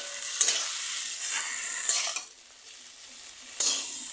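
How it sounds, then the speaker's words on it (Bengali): Beaten egg is stirred in a frying pan, a spatula scraping in a few sharp strokes over a soft, steady sizzle, with no talk. "দেখো এখন ডিমটাকে মিশাই নেব"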